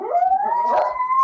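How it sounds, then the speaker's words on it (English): A siren wails outside with a dog howling along, one rising steady tone held close and loud through the short stretch. "There's sirens outside."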